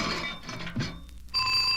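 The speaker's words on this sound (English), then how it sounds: "I've broken Yogi's hibernation alarm clock" A cartoon alarm clock, a bear's hibernation alarm, rings in short bright metallic bursts, broken by a thunk and a brief gap before a final sustained ring.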